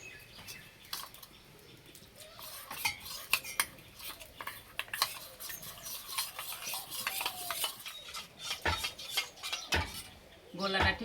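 A spoon stirs cornflour batter with salt and water in a bowl, giving steady close scraping and sloshing with repeated light clinks against the sides and a few sharper knocks toward the end.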